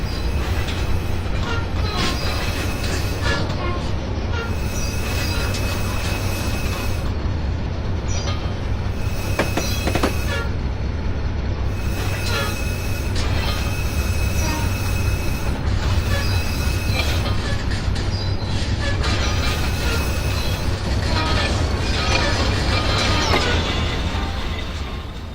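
Baldwin Centipede locomotive in Train Simulator 2016 on Horseshoe Curve: continuous loud low engine rumble with rail clatter and repeated high wheel squeals throughout.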